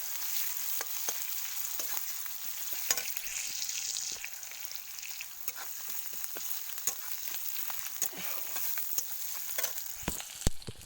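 Onions and dried red chillies frying in hot oil in a pan give a steady close sizzle with scattered pops and stirring clicks, with no talking.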